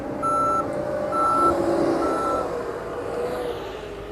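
A truck's reversing alarm beeps in a steady repeating pattern at a road-building site cleared by bulldozer, fairly loud over a constant rumble of heavy machinery.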